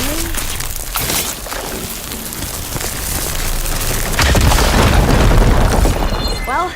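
A firegleam explosion in Horizon Forbidden West booms loudly, a dense roaring blast that swells and rumbles under game music and effects, staying heavy and close for several seconds.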